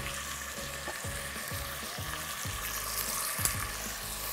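Pieces of chicken sizzle steadily as they brown in a pan for an Asian chicken noodle soup, a continuous close frying crackle with soft recurring low thumps and no talking.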